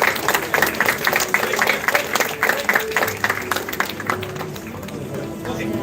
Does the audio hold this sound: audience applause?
yes